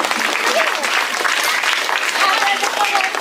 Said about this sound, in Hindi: तो जोरदार तालियों के भी स्वागत कीजिए आप लोग